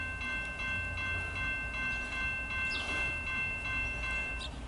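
A CSX intermodal freight train passes eastbound at a distance with a low, steady rolling rumble, sustained horn-like tones held faintly on top and a brief squeal near the end, no voices.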